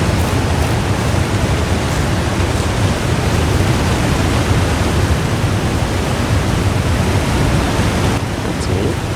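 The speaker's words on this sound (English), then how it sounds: "Love the sound of the rushing water." A rushing waterfall in The Long Dark video game roars loud and steady as a dense, unbroken wash of water noise, close and alone without talk.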